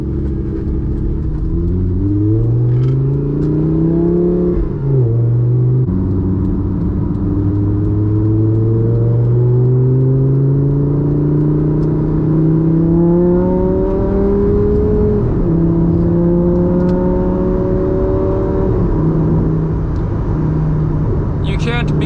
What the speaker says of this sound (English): The sound of a naturally aspirated V10. I mean, it just sounds so good.